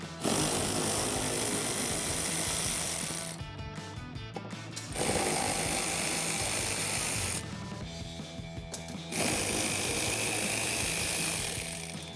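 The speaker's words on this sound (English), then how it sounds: "I'm going to use that 10mm socket to continue to remove those." Fender flare bolts on a 2016-2021 Toyota Tacoma come off with a 10mm socket on a power ratchet, three long, loud buzzing whirs broken by short clicking pauses, close up and with no talk.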